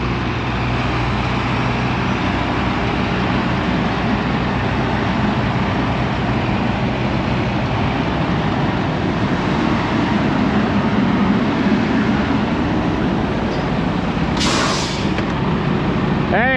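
A truck backing a trailer alongside a barn gives a loud, constant broadband rumble of engine and road noise, with a brief hissing burst near the end and no talking.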